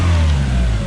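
Four-cylinder Toyota 3SGE engine in a TE72 Corolla runs steadily, a close, loud, continuous idle hum with no voices.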